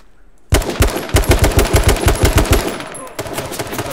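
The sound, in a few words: AK rifle automatic gunfire in H1Z1 video game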